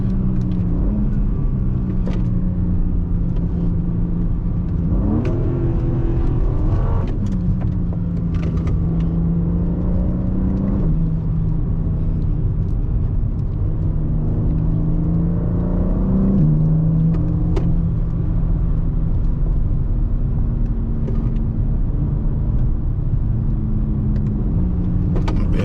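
Engine of a 2023 BMW M2 heard from inside while driving, a steady low drone with brief rising revs and gear-shift dips, loud and continuous with no talking.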